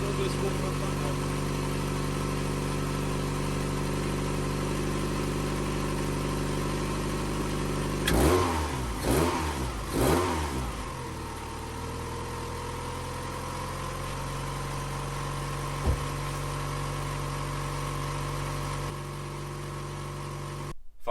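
A freezing-cold project sports car engine idles steadily with a deep, continuous rumble, broken by a few brief revs partway through before settling back to a smooth idle, with voices talking over it.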